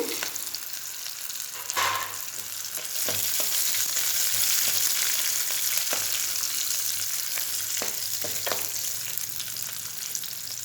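Peanuts fry in oil in a pan, giving a continuous bright sizzle with a few sharper pops and stirring scrapes, close and steady throughout.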